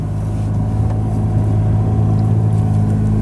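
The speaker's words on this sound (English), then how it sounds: "Sport Plus mode, the engine's back on." A 2017 Acura NSX idling in Sport Plus mode after its engine restarts, giving a loud, steady low-pitched hum and rumble close by with no voices over it.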